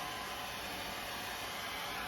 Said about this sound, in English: So you want a hair dryer on the lowest cool setting